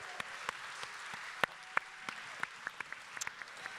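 Audience applause for the Pam & Tommy panel at a Disney FYC Fest event, a steady wash of many hands clapping with a few sharper nearby claps standing out, and no talking.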